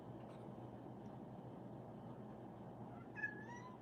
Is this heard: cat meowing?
yes